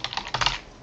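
A computer keyboard is typed on in a few quick, close key clicks over a brief moment, alone with no talk.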